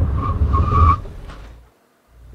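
A 2013 Audi S8 brakes hard from 60 mph, giving about a second of loud tire squeal and skidding rumble close by that fades quickly to near silence as the car stops.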